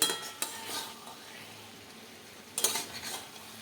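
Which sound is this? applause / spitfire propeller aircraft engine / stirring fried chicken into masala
stirring fried chicken into masala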